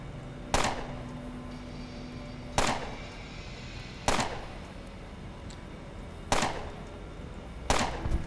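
Five sharp, loud gunshots in the video game Underrail, spaced a second or two apart, each with a short decaying tail over a quiet background.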